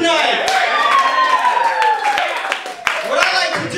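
Comedy club crowd at a spring show clapping and cheering steadily as a comedian takes the stage, dense applause with sharp claps sustained throughout, with a voice speaking over it.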